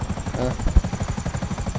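A helicopter in GTA 5 beats with fast, regular rotor thumps, loud and close, with a steady engine whine underneath throughout.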